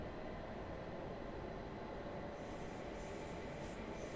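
Class 700 trains rumble at Brighton station in Train Sim World 3, a continuous low, heavy drone of railway running noise with faint higher hiss, steady and close throughout.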